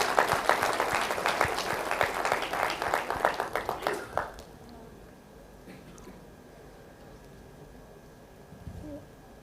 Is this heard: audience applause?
yes